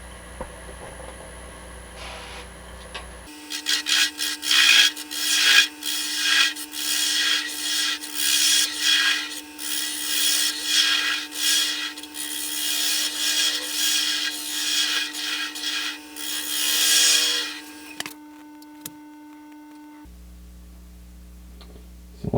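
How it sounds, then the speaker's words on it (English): A spindle gouge cuts along the grain of a wooden acorn lidded box spinning on a lathe, giving a steady, close scraping hiss that swells and eases for about fifteen seconds before the lathe winds down. "now I'm going to be using a spindle gouge because this is still with the grain"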